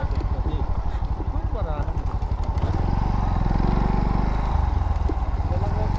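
A motorcycle engine runs steadily at close range while the bike is parked near Jambu Dada, its low rumble growing heavier midway, with people talking over it.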